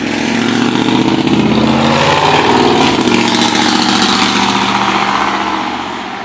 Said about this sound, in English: What do you expect? Loud trucks.